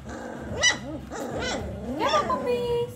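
Dobermann puppies give a few close, high yips and whimpering barks in short bursts over about three seconds, mixed with low growls and a person's voice nearby.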